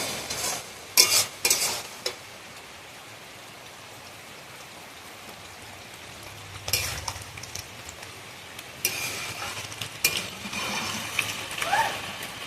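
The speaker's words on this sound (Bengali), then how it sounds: "এবার আমি দিয়ে দেবো জল" Water hits a hot pan of yam and koi fish curry with bursts of hissing sizzle, followed by steady bubbling and stirring scrapes, close and fairly loud.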